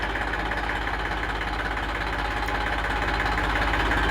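A 42 hp Eicher 380 tractor idles nearby with a steady, low diesel rumble and a fine rhythmic knock that holds even throughout, with no voices.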